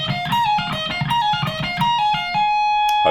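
Fast distorted electric guitar shred run from a solo, repeating five-note groups three times before a four-note figure, played loud and close with dense picked notes ending on a sustained tone.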